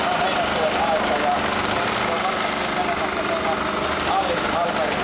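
An old tractor engine runs at a vintage machinery show in Oulainen, a continuous rough, knocking drone at steady volume with a voice talking over it.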